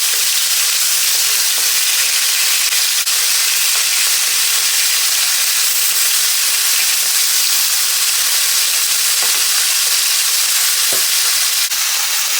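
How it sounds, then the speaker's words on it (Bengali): Frozen katla fish sizzling as it fries in an oil-filled pan while being stirred, a steady loud hiss with occasional soft scraping clicks throughout. "মাছগুলি ভাজে নিতে হইব, কারণ এগুলি ফ্রিজের মাছ, তাহলে গন্ধ করবো না ভাজলে"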